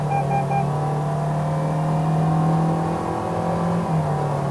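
A 2023 Toyota Vios NGC102 engine pulls steadily toward 4000 rpm during a test drive, with a sustained rising drone heard from inside the cabin, continuous and fairly loud, with no one speaking over it.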